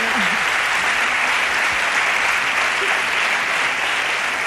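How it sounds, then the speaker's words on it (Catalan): An audience at the 2004 Andorran national song contest final applauds, with dense, steady clapping throughout and faint cheering underneath. "Un aplaudiment per la Bet, que ho ha quadrat"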